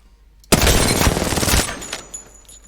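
Sustained burst of R9 rifle fire in Apex Legends with no attachments, a dense rapid volley lasting about a second, loud and close, then fading into softer echoing shots and tail.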